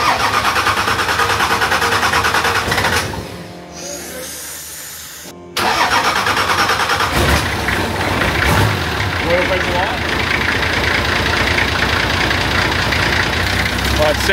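A Nissan TD42 diesel engine cranks, falls briefly quiet, then fires up and settles into a loud, rough, clattering idle close by.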